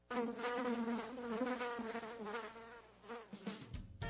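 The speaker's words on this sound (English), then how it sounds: "termites, are they biting around your home? Well, fight that bite by calling Tri-Hill Turf and Pest Control." A mosquito's high, droning buzz in a pest control radio ad, loud and continuous with a wavering pitch, heard alone without speech.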